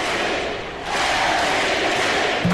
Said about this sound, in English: The crowd just went wild.